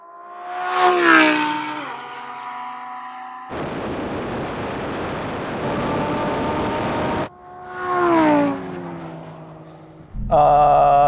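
A Lamborghini Huracán Sterrato and a Porsche 911 Dakar launch in a drag race. Loud engines rev up and fall away in repeated surges, broken by stretches of broad rushing roar.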